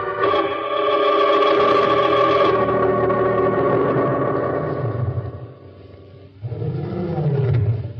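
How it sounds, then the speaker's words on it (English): A lion roars in a radio-drama scene, a long, loud, throaty bellow that fades and then rises again in a second rumbling roar. "Somewhere in the distance, a lion roared."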